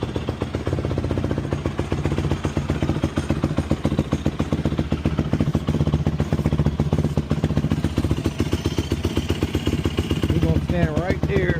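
A cold Yamaha YFZ450 ATV engine runs rough right after a choked cold start, its loud, close, uneven rapid firing clattering throughout and struggling to settle.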